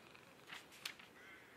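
A cat purring in a horror video game, very faint and close, soft rough rumbles with a couple of slightly stronger breaths.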